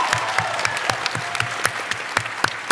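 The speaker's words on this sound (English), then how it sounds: "Everyone applaud." Live convention audience at PAX West breaks into applause, a dense spread of claps with a few sharp louder hits, steady and fairly close through the whole stretch, with no talking over it.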